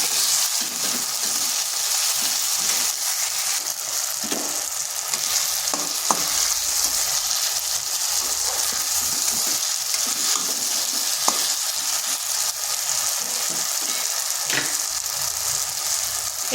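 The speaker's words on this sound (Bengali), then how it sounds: "এরপর বেশ কিছুক্ষণ কষে নিচ্ছি।" Cauliflower and potatoes with tomatoes, green chillies and salt frying in a pan, a steady close sizzle with occasional scrapes and stirring clicks throughout, no talk.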